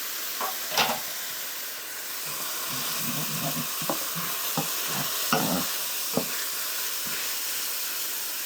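Lean minced beef fries in a hot pan, giving off a steady close sizzle and hiss of steam, broken by occasional pops and scraping stirs.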